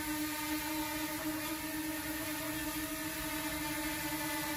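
A DJI Mini 2 drone hovers and spins in place, its propellers giving a steady, close, high-pitched whine with sustained tonal hum and no break in level.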